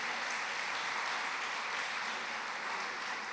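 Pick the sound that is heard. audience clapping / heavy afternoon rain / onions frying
audience clapping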